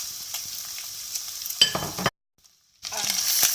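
Onions frying in leftover oil in a pan for salted cod, a bright close sizzle with a few stirring scrapes, cut by a brief dead-silent gap before the sizzle resumes.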